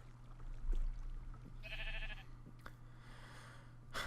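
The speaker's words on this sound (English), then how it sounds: "Sheen the Chocolate Sheep has saved the day" A sheep in the game Minecraft bleats once in a short wavering cry, followed by faint game clicks and a low steady background hum.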